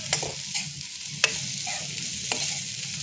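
Dal bori fried with jilmil greens in a pan, a continuous soft sizzle under a few sharp scraping stirs of a spatula, close up and with no voices.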